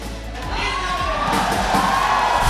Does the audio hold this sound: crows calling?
no